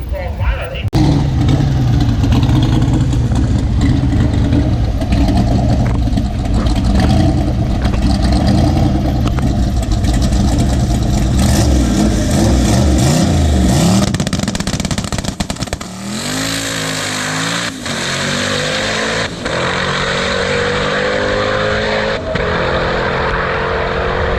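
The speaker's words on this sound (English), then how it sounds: "Stephen Plemons, that beautiful 1969 twin turbocharged Camaro, coming up here for a single pass" A 1969 twin-turbocharged Camaro making a single drag racing pass, a loud roaring engine at full throttle that holds for about fifteen seconds, then drops to a lower rumble as it backs off, with an announcer talking over it.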